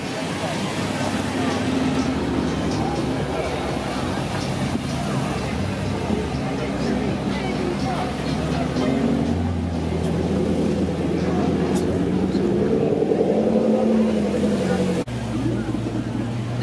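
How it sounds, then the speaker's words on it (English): Engines rumble and rev at Supercar Fest on a runway as supercars drive back in past the listener, a continuous mix of passing engine tones with a person talking over it. "now some of the supercars are coming back in from their one"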